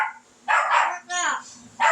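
A parrot imitates a dog barking, giving three sharp, bark-like bursts about half a second apart, close and fairly loud.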